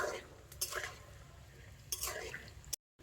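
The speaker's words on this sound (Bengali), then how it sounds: "আর এবার আমি বড়াগুলোকে উল্টে পাল্টে দেবো।" Lentil fritters frying in oil are turned over, with a low, steady sizzle broken by a few brief scraping and clinking bursts from the utensil. It is quiet and close, and a short gap of silence falls near the end.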